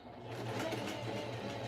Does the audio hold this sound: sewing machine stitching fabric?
yes